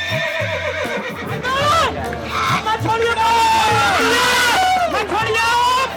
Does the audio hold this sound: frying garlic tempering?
no